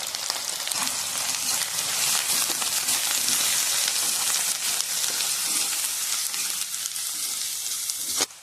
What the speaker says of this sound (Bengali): পেঁয়াজ মোটামুটি ভাজা হয়েছে।